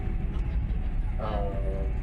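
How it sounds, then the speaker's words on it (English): Steady low rumble of a train rolling over a river crossing, heard from inside the carriage as a continuous rattle with a brief squeal partway through. "we're on a train going over it"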